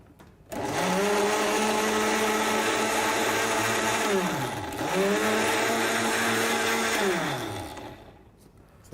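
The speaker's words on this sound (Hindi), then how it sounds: "इसको ब्लेंड कर लेंगे बस।" A kitchen blender purees soaked dates with water for nabeez, a loud, steady motor whir running in two long stretches with a brief dip between them, with no talk over it.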